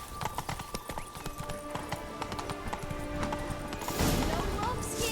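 Roach the horse's hooves clip-clopping in The Witcher 3, a steady trotting beat close by, with a spoken voice over part of it and a louder whoosh of ambience near the end.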